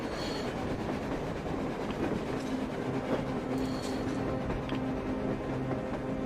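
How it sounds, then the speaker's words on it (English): A train passes on the surface in the video game Metro Exodus with a continuous rumbling roar, rhythmic clickety-clack and faint wheel squeal. The sound stays fairly close and steady throughout, with no voices over it. "A damn train on the surface!"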